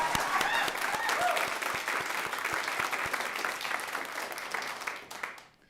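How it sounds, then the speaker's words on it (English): Audience applause at a poetry recitation competition, a dense steady roar of many hands clapping that swells briefly, then fades out near the end. "Can we give a round of applause to Laura Forbes from the Alaska State Council on the Arts?"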